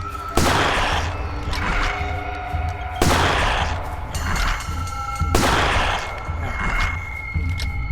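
Gunfire in a scary first-person shooter game: loud, sustained bursts of rapid shots arriving in three long volleys, each cutting off abruptly, with a steady electronic hum underneath.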